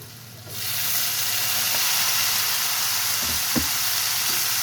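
Onions sauté in hot oil for a village-style dried fish curry, a dense steady sizzle that swells in after a brief quiet start and holds loud and close, with a couple of faint stirring knocks.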